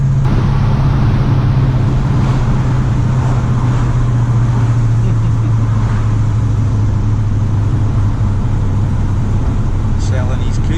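A car with a worked 360 Magnum V8 carrying a cam, heads and a tune drives along, a loud, steady engine drone with heavy road and cabin rumble throughout.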